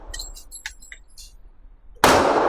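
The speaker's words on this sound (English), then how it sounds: "let's see if we can, how fast we can shoot" Hi-Point JXP 10mm pistol fired outdoors, a few faint clicks and handling noises and then a sudden loud blast that stays loud and rings on to the end.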